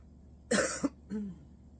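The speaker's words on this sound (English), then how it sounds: "I still have just a little bit of cough trying to hang on" A single harsh cough up close, followed by a short, softer second cough, with quiet around it.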